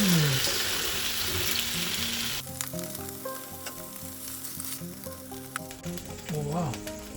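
Salmon sizzles loudly in a hot pan right after being flipped, a bright crackling hiss that drops to a quieter simmer with clinks and light kitchen handling, plus a brief exclamation.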